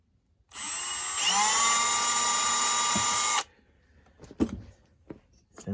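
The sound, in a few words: drilling tiny holes through a knife into the cavity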